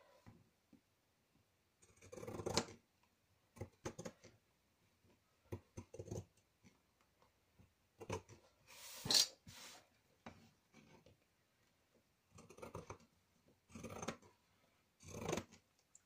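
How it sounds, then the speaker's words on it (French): Pinking shears cut through fabric in a series of short, crisp snips, grouped in quick bursts with quiet pauses between, close and soft. "Alors les ciseaux cranteurs"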